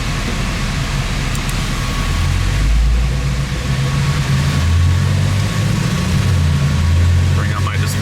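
Engine of a bolt-on fifth-generation Chevrolet Camaro ZL1 during a dyno pull, a loud, steady low rumble building through the run with a rising whine near the end.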